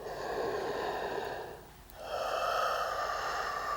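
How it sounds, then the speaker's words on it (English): A person breathes slowly in and out during a tai chi exercise: two long, close, airy breaths separated by a short pause, with no talking. "Breathing in, breathing out."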